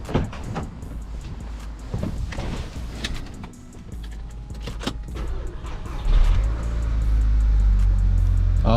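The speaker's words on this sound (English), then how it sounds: "I gotta open the garage door" A motorized garage door whirs and rattles as it opens in a home garage, with clunks along the way, and then a car engine rumbles in low and steady near the end.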